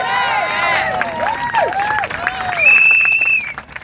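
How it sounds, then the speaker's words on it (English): A crowd at a London street protest claps and cheers, with scattered applause under nearby voices and a sustained whistle-like tone near the end. "Don't normally get clapped like that."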